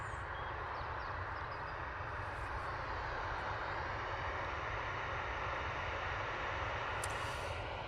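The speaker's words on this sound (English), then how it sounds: "So this 737 is going off to Barcelona." A Jet2 Boeing 737 airliner departs for Barcelona with a steady, heavy engine roar that holds at a constant level throughout and drowns out any other sound.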